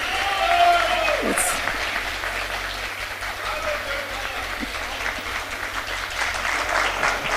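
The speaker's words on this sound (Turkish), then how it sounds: "şöyle bir alkış istiyorum" Audience applause at a live Yörük Turkmen cultural gathering in Antalya, sustained clapping from a large crowd filling the hall, steady and loud, with a voice speaking briefly over it.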